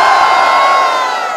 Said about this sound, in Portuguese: Mais uma vez, barulho pra Willis!